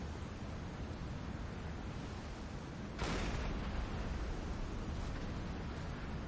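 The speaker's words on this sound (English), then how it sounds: "No fire, but a bit of an explosion." Deck gun shells strike a ship in Silent Hunter 5, and one sharp explosion bursts out of a steady roar of sea and wind partway through, then rumbles on under the constant background noise.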